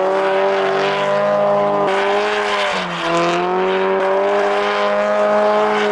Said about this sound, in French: la GT86 fait un petit peu trop de bruit pour le circuit de Mérignac